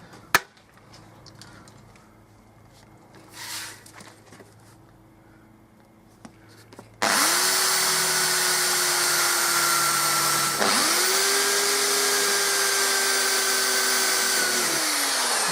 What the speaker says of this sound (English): So now we drill the holes in the corners.